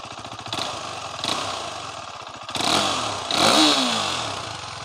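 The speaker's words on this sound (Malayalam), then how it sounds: "ഇതാണ് എൻ്റെ സ്റ്റോക്ക് സൗണ്ട്." A KTM RC 390 motorcycle on its stock exhaust silencer idles close by with a rough, chattering pulse, then gets two short blips of the throttle that rise and fall in pitch.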